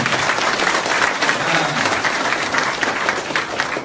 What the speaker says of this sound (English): can we give them a big, big round of applause?